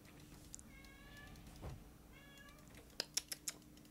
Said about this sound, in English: Oh, my cat's losing her mind now.